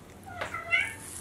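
A cat gives a single short meow, near and fairly clear, rising then fading within about a second.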